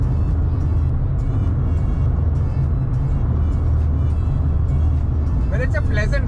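A car cruises at speed through a road tunnel, a loud, continuous road and engine roar close by, with a brief vehicle rumble near the end.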